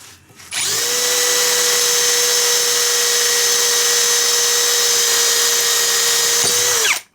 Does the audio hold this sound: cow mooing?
no